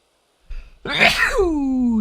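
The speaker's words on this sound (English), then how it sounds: "I probably should have muted my mic before I sneezed." A single loud, close sneeze picked up by a desk microphone during a Planet Coaster 2 building session, with a short intake of breath before a sharp explosive burst that trails off.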